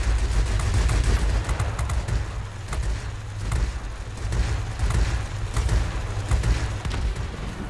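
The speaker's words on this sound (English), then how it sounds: "We'll find out what the rear guns are like. They sound pretty good." Rear-gunner machine guns on an ME 410 Hornisse aircraft in the World of Warplanes video game fire in sustained rapid bursts over a constant engine roar, loud and continuous throughout.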